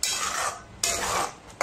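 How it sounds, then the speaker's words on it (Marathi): Ginger, garlic and onion sautéing in mustard oil, stirred in three quick scraping strokes that hiss against the pan, close and fairly quiet, with no talk. "आता आलं, लसूण, कांदा तिन्ही गोष्टी आपल्याला तेलामध्ये व्यवस्थित अशा परतवून घ्यायच्या"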